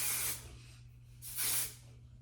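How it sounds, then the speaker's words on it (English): Two short hissing bursts of aerosol spray, each lasting about half a second, close by with a low hum underneath and a pause between. "So I got new hairspray."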